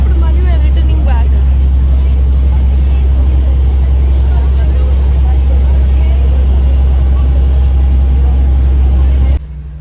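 A boat engine drones loud and steady on the ride back from St. Mary's Island at Malpe beach, Udupi, with a continuous low rumble and wind rush that cuts off abruptly near the end.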